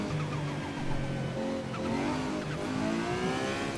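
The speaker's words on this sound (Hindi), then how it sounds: "अंदर बैठने पर तो इसकी ख़तरनाक साउंड हो रही है और भी ज़्यादा" Ferrari FXX K engine heard from the cockpit in Forza Horizon 5, a loud, sustained high-revving drone with rising and falling pitch as it shifts through gears, alongside some tire noise.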